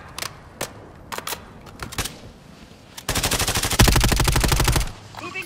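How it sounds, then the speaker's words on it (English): Gunfire in Call of Duty on Fortune's Keep in Resurgence Quads, scattered distant single shots and short bursts, then a loud close automatic burst of rapid, evenly spaced rounds for about two seconds before stopping. "Taking effective fire."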